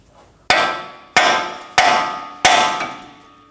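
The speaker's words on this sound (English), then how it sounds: "Using a hammer, we're gonna hit right around here to pop it off." Four sharp metallic hammer blows on the tie rod end of a Nissan Armada, evenly spaced about a second apart, each ringing briefly before fading; close and loud with no talking.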